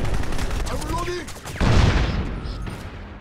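Dense gunfire in Crysis multiplayer on the Desolation map, a steady rattling barrage of overlapping shots and a heavier thump midway, with voices shouting over it.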